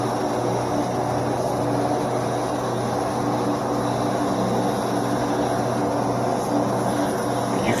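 A VEVOR spray gun lays red base coat in a steady, loud, unbroken hiss of compressed air and atomised paint, with a low machine hum under it throughout.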